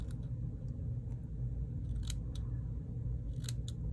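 Scissors trimming ribbon and lace for a journal tassel: several quick snips, a pair near the middle and more near the end, over a low steady rumble.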